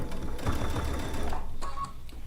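A sewing machine stitches steadily through fabric, a continuous mechanical whir with fine rapid ticking, close and fairly loud, easing slightly near the end.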